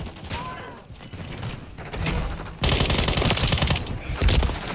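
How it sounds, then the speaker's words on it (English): Rapid bursts of automatic gunfire in Modern Warfare III multiplayer crackle close and loud, with dense overlapping shots that grow heavier in the second half amid mechanical clatter. "There's literally a teammate shooting him!"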